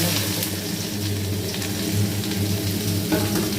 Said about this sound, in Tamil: காஞ்ச பிறகு இந்த வெட்டின வெண்டைக்காயை அதில் சேர்க்கணும்